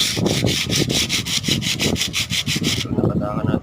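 Dried putty on a window frame being sanded by hand, a steady back-and-forth rasping of about a dozen even strokes, close and loud, stopping near the end.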